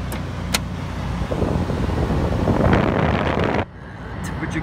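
A 1999 Dodge Roadtrek Popular 190 camper van's air conditioner fan runs on high cool with a steady, loud, windy roar that cuts off abruptly near the end, leaving only a faint hum.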